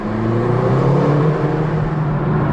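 McLaren GT supercar engine running steadily and loud, a constant close engine drone with layered low harmonics, no talk over it.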